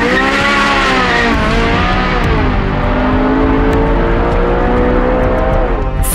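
A Porsche 918 accelerates hard on a quarter-mile pass, its engine loud and close with rising harmonics through several gear changes and no voices.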